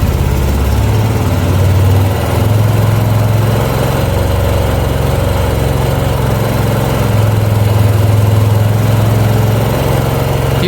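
A Yamaha YBR125 motorcycle engine runs steadily during carburetor mixture tuning, a loud, close, continuous buzzing drone whose pitch rises and dips slightly as the revs shift.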